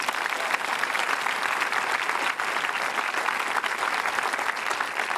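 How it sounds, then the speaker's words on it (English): Large outdoor audience at the Garma Festival in Arnhem Land applauding a televised Q&A panel, a continuous, even wash of many hands clapping at moderate distance for about five seconds. "Give yourselves a quick round of applause."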